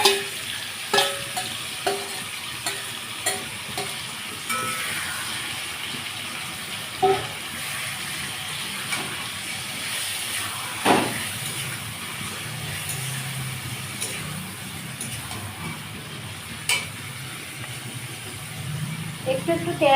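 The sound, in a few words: mutton with whole garlic frying in oil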